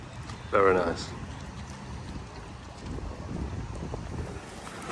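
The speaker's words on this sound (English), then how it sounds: "It will be windy" Steady wind in Majorca rumbles and buffets the microphone throughout, with a brief burst of voice near the start.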